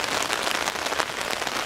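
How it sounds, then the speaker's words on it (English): Steady rain falls on a street by the Avon River in Bradford on Avon, an even, dense hiss of drops that is close and continuous, with no voices. "it's been raining more or less since we left"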